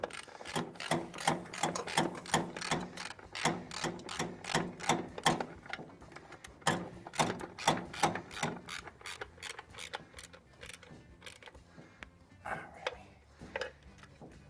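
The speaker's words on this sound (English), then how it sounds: "Getting these valve cover bolts tightened back up here." A ratchet wrench clicks rapidly in steady runs while valve cover bolts on a 1935 Ford truck are tightened, close and clear, pausing briefly before a slower, more scattered set of clicks.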